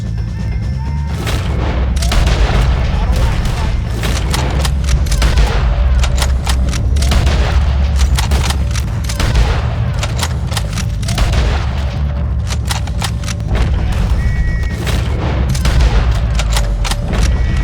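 Shootout in Red Dead Redemption 2, with dense rapid gunfire, booming shots and crackling volleys firing almost continuously at loud volume over a rumbling background.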